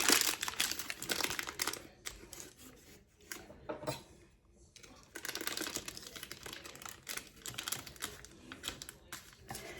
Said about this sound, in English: Fold back our parchment paper.